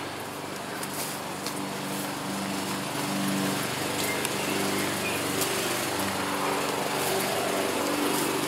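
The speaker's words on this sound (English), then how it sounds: "Mowing the lawn there, nice smell of mown grass." A lawn mower cuts grass outdoors on a May afternoon, its engine droning steadily and loudly throughout with a constant motor hum and no pauses.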